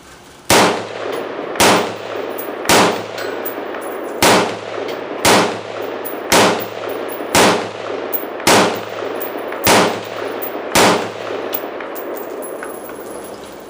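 A rifle fires ten rounds at an outdoor shooting range: loud, sharp shots evenly spaced about a second apart, each with a brief ringing tail over a low steady background hum.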